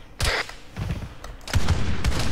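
Short bursts of rifle fire crackle in a Halo firefight, several rapid volleys with thumps in between, loud and close.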